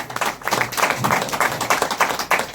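A crowd at a company achiever celebration claps in a short burst, fairly loud and close, with irregular overlapping hand claps and no talking.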